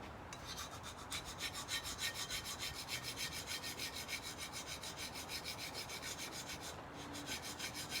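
Scissors being sharpened on a 600 grit stone produce a steady, rhythmic rasping rub, close and continuous, with repeated even strokes throughout and no voices.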